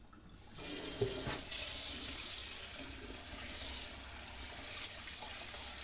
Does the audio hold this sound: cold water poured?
yes